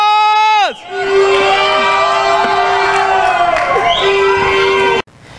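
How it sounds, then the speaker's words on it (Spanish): Crowd of football fans from Tuluá at a festive sports gathering shouting a loud collective battle cry together, a sustained roaring chant of many voices close to the microphone that cuts off abruptly. "un grito guerrero para nuestras cámaras del canal CNC"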